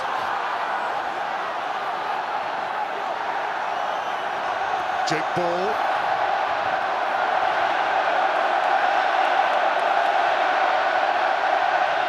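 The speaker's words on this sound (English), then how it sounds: "The crowd in full voice." A packed rugby stadium crowd at the 2017 Six Nations match between Wales and England keeps up a steady, loud roar throughout, with a commentator talking over it.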